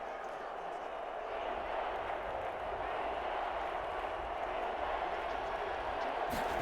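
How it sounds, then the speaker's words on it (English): Steady crowd noise from a virtual stadium during Madden NFL 21, Detroit Lions hosting the Minnesota Vikings in the late fourth quarter near the goal line, a continuous roar of chanting fans running throughout. "Crowd chanting defense."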